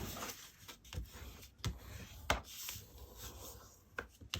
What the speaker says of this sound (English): And I'm going to burnish that down.